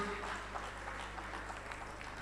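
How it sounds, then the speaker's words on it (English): Faint, diffuse applause from an audience at an award night dinner, a soft continuous patter of clapping over a low hum, heard from some distance. "Ladies and gentlemen, clap for Warri."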